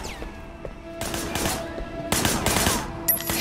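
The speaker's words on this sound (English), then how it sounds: "Shooting at the guys over there." Gunfire bursts in the video game Sleeping Dogs, a shooter firing from a car's passenger window at men nearby; three loud broadband volleys rattle over a steady hum, with a voice faintly present.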